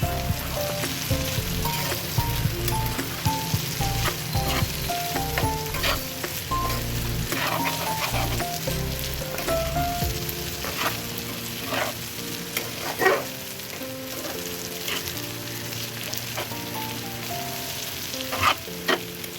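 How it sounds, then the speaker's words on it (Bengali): Minced beef fries in a pan with a steady, close hiss and crackle while a spoon or spatula scrapes and turns it in frequent knocks, with no voice over it. "একটু নাড়িয়ে দেবো, ওলট পালট করে দেবো।"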